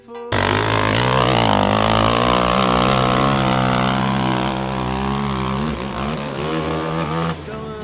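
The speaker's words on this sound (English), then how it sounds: "Let's check out his run on his KTM 520." A KTM 520 motorcycle roars through a hillclimb run in Andler, Belgium, its engine loud and sustained, rising and shifting in pitch as it climbs before cutting off at the end.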